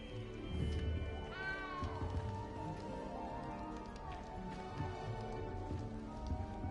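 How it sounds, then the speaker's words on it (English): A frightened little cat meows in the rain in the video game Hogwarts Legacy, a short rising meow heard over steady rainfall and a low ambient game soundtrack. "You don't need to be frightened, little cat."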